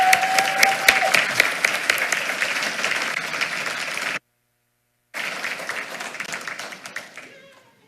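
Applause at a school board meeting honoring a high school cross country athlete, crisp close claps over crowd noise, broken by a brief silent gap, then resuming and fading out.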